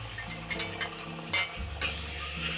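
An egg frying and being stirred in a hot wok for restaurant-style pork fried rice: bright sizzling with a few sharp scraping stirs, close and clear, no one speaking.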